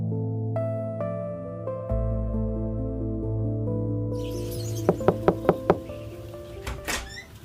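A burst of five quick, sharp knocks on a door lands near the end, loud and close, following a stretch of sustained dramatic music and a fast rising sweep.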